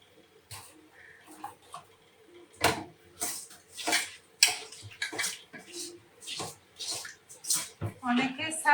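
Food is rinsed by hand in water with salt and turmeric, with intermittent splashes, sloshing and clinks of a vessel in irregular bursts, close by, with a voice speaking at the end.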